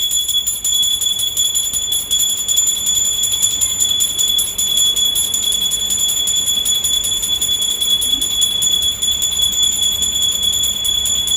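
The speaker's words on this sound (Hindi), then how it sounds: "अब हम पूजा कर लिए हैं, घंटी बजाते हुए प्रणाम कर लिए" A brass puja hand bell rings continuously during Dhanteras worship at home, a steady bright metallic ringing with sustained high overtones, loud and close, with no talk over it.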